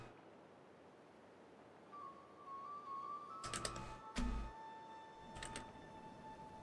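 Login password typed on a computer keyboard: a few short bursts of key clicks, close and moderately loud, over a quiet room with a faint steady tone.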